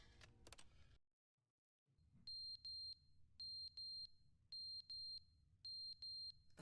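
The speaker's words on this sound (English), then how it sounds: "The fuck is this beeping?" An alarm beeps in The Stanley Parable, clipped high electronic tones in repeated bursts of three, steady and loud after a brief silence, with no talking over it.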